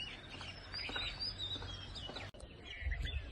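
Pigeon squabs and adult pigeons in a home coop make soft chirps and calls against a faint background hum, with a brief knock partway through.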